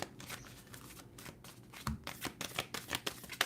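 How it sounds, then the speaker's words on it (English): A deck of oracle cards is shuffled during a tarot-style reading, giving soft, quick papery riffles and flutters in an irregular rhythm, close to the microphone and quiet, with no talk. "we getting a good shuffle in"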